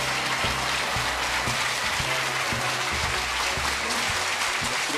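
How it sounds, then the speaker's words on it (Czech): Studio audience applause greeting Czech actor Luděk Munzar on the Sejdeme se na Cibulce television show, a steady dense clapping that stays loud and even throughout, with a low rhythmic thumping pattern running beneath it. "Potlesk to byl hezký, ale troufnu si odhadnout, že ten následující bude ještě větší"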